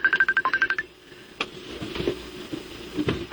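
A cellphone ringtone in a Cebuano radio drama gives a quick series of bright, rhythmic electronic trills that stop after about a second. Faint thumps and background noise follow.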